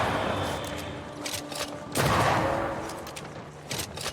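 Rifle fire in Banishers: Ghosts of New Eden comes as a string of heavy, booming shots at irregular intervals, loud and close, with the reports overlapping.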